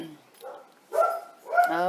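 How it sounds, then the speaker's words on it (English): Pet dogs barking at home, a few separate sharp barks close by: a faint one, a louder one, then a final bark with a longer, whining tail. "They love to bark."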